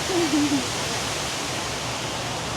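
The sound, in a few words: water falling at the Houston Water Wall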